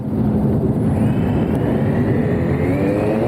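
Propellers of a Skydio 2 drone whirring steadily at close range during hand-launch takeoff, a loud continuous buzzing hum with a faintly rising tone.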